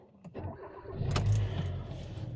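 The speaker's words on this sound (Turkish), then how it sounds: "Şu şeyi bir açayım arabayı bir çalıştırayım ben." A car engine starts up ahead of a drive, with a brief jingle of keys and a click, then the starter cranks and the motor catches into a low, steady idle heard from inside the vehicle.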